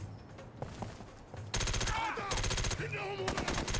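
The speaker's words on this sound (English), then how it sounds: "You have to fire 4 bullets at once" Rapid automatic gunfire in the video game SOCOM US Navy Seals 3, starting abruptly partway through as a dense, loud burst of repeated shots over quieter game ambience and voices.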